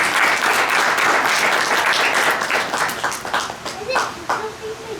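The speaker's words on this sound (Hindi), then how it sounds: "एक बार इन सब के लिए ताली बजाओ, अच्छे काम करें।" Audience at a spiritual discourse breaking into loud, dense applause right up close, clapping steadily for a few seconds before thinning and tapering off toward the end.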